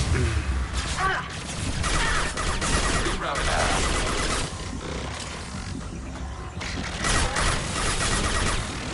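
Enemy gunfire during an attack in Mass Effect 2, a loud, busy barrage of shots mixed with rumbling, roaring combat noise that continues without a break across the whole stretch.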